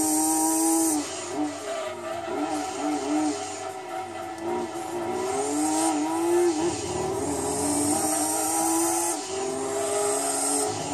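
A race car engine in the Gran Turismo 2 video game screams steadily at high revs, with pitch rising and dipping through shifts and a squealing drift at the SS Route 5 night endurance race, loud and continuous with no talking.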